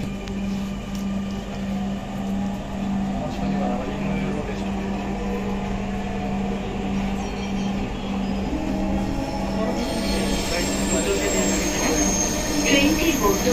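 A Dhaka metro rail train runs steadily, a continuous rumble with a strong low hum and rising high-pitched whine and squeal toward the end, loud and close throughout.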